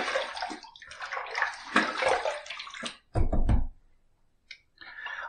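Running water from a tap splashing while a shaving razor is rinsed, close gurgling flow in bursts with a heavier thump-like splash midway and brief pauses between.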